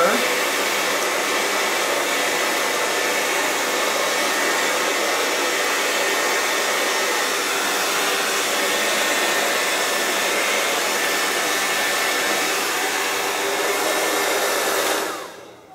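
A hair dryer blow-drying short hair blows steadily at close range, a loud continuous whooshing roar that runs unbroken for about fifteen seconds before cutting off abruptly.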